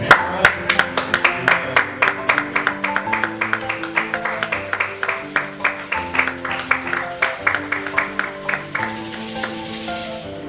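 A church congregation claps in quick rhythmic bursts, the applause dense and close, with hand claps sounding regularly over the whole stretch before easing into a steadier wash near the end.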